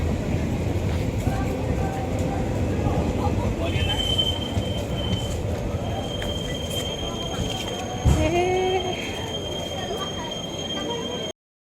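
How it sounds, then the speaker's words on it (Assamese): A train rumbles steadily into a station, with a continuous heavy low roar, brake or wheel squeals near the middle and a sharp metallic clank, close and loud throughout. "ট্ৰেইন আহি গ'ল যাওঁ এতিয়া ট্ৰেইনত উঠি পেলাই"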